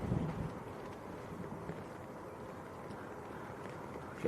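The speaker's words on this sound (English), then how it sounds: "big gust of wind coming through all of a sudden." A sudden strong gust of wind at Manchester Airport roars steadily across the microphone as a broad, rumbling, continuous rush.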